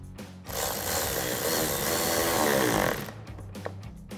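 A power driver runs a 6 millimeter screw into a powered towing mirror on an F-150. It gives one steady, fairly loud whir of about two and a half seconds, starting and stopping abruptly.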